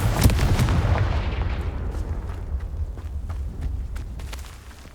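A Confringo explosion spell in Hogwarts Legacy bursts loudly at the outset, then decays into a long rumbling, crackling tail with scattered small pops fading away.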